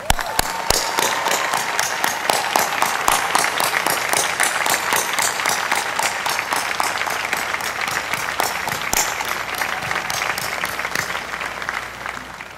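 Sustained applause from a large commencement audience at a university graduation ceremony, dense steady clapping filling the space for the whole stretch without speech.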